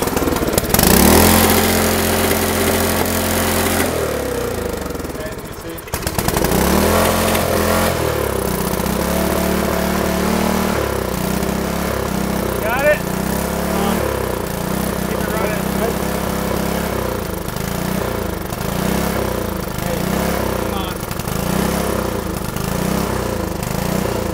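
A small engine fitted with a transparent carburetor runs loud and close, revving hard before dropping off briefly, then settling into a throttled, pulsing run as people talk over it.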